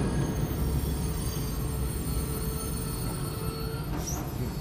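Train in Wolfenstein II grinding to a halt, a steady loud rumble of wheels on rails with a thin metallic squeal rising near the end.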